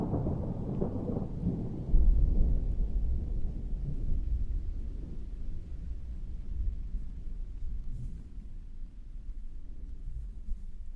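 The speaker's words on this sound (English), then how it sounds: "Can I hear the thunder?" Deep rolling thunder rumbles loudly, swelling about two seconds in and then slowly fading into a low grumble over the remaining seconds, with no voices present.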